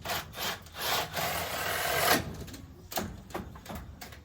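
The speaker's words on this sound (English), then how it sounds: "So let me just drill this and I'll show you guys." Wood being drilled for a homemade goat waterer, with a gritty grinding burst that swells to a peak and cuts off sharply, followed by scattered knocks and scraping handling sounds.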